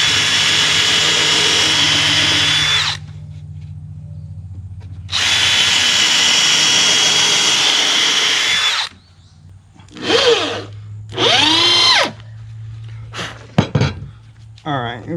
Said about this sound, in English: we're going to put a couple screws in each side